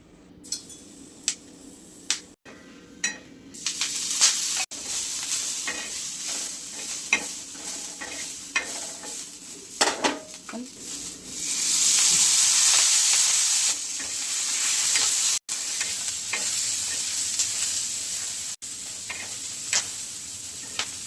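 Green chillies cut in halves frying in hot oil in a pan, a loud steady sizzle with bursts of hissing and crackling, punctuated by the scrape and knock of a spatula stirring.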